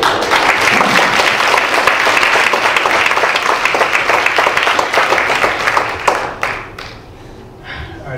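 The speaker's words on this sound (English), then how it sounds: "Applaud again." A crowd at a county heroin summit applauds loudly and steadily for several seconds, then the clapping breaks into a few last scattered claps and fades.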